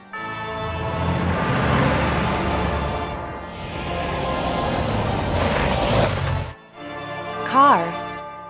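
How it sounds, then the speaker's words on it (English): A garbage truck rumbles and hisses nearby amid street noise, with engine drone and mechanical clatter across several seconds, ending with a brief pause and a voice-like chirp near the end. "Garbage truck."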